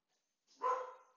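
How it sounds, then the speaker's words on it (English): A pet dog barks once loudly and close, a single sharp bark with a brief trailing tail, heard alone in a quiet room. "I apologize if you can hear my dog barking."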